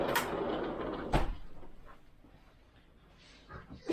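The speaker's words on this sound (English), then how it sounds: "I'm just going to close the door" A door closes with a couple of sharp knocks and thuds close by, and faint rustling and a breathy background follow.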